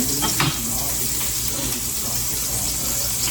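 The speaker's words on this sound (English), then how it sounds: "We're going to add the garlic." Garlic sizzling in a pan of olive oil and butter: a steady close sizzle and crackle with a brief stir near the start, no talking.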